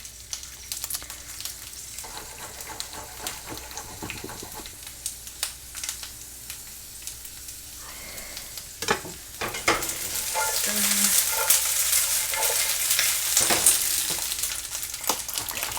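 Green beans sauté in a hot pan with garlic for a Chinese takeout-style dish. A continuous sizzle grows louder partway through, broken by scattered scraping and clattering stirs, close up and without speech.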